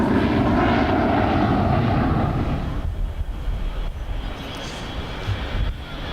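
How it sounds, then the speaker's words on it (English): A Boeing 727 airliner takes off at Los Angeles International Airport, its loud jet roar filling the first half and then easing into a fainter, receding rumble. "727 taking off."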